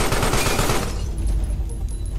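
Rapid automatic gunfire from enemies shooting at the monster in the horror video game Carrion, a dense rattling burst that fills the first second before cutting to a low rumbling game ambience.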